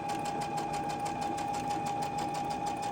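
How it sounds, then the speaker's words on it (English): A sewing machine chain stitches quilting fabric at a short stitch length, running in a fast, even mechanical rattle with a steady whine underneath, close and continuous with no talking. "I'm going to just go ahead and chain stitch all these."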